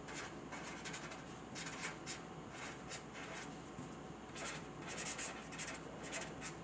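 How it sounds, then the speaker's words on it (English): A pen or pencil writes an equation by hand in quiet bursts of scratchy strokes, close and faint, with short pauses between the groups of strokes. "Our third step is to write the complete equation."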